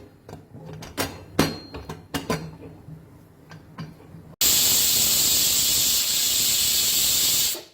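A pressure cooker of jackfruit biryani cooking without added water: a few soft clicks and rattles, then a sudden loud, steady, hissing steam whistle that holds for about three seconds before cutting off.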